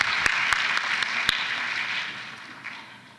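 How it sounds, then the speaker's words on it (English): Brief applause for graduates at a celebration ceremony, a steady patter of clapping with a few sharp louder claps near the start, fading over a few seconds. "Round of applause for you all, too."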